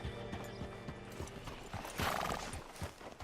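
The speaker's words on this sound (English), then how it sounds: "Hitch your horse up here." Horse hooves clip-clopping in an even walking rhythm in a video game, followed by a loud neigh midway, then more hoofbeats slowing under faint background ambience.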